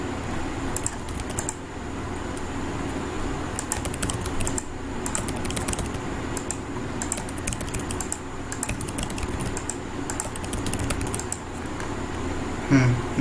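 Someone types steadily on a computer keyboard while coding a to-do list app in JavaScript. The keys clatter close up in quick runs broken by short pauses, over a faint room hum.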